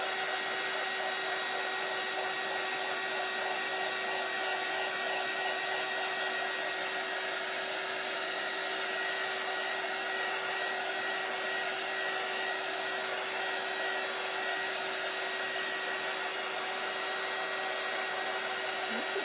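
A heat tool blows continuously to dry black paint on a door hanger, a loud, steady whooshing roar with a fixed whine that holds unchanged throughout and no talk.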